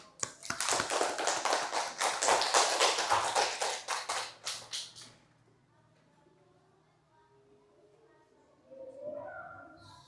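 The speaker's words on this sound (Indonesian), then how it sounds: "Kasih aplaus buat kita semua." A classroom of people claps together in a loud burst lasting about five seconds, then fades into quiet with soft talking afterward.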